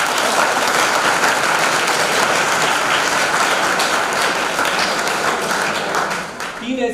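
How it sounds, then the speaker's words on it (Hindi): Sustained applause from an audience in a college lecture hall, dense steady clapping that fills the room for several seconds before thinning out at the end. "ताली बजा सकते हैं?"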